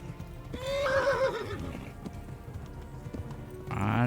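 A horse in Kingdom Come Deliverance gives a loud close whinny, then hooves clop along, and a second shrill neigh comes at the end.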